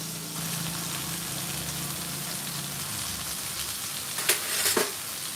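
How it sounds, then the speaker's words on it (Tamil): Velameen fish pieces fry in coconut oil in a pan with a steady, soft sizzle throughout, then a couple of brief, louder crackles near the end. No one speaks. "நம்ம ஒரு பேன் எடுத்து அதில் நல்லா ஒரு தேங்காய் விட்டு இந்த மாதிரி விளமீன் துண்டுகளை ஈவனாக அடுக்கி வைக்கணும்"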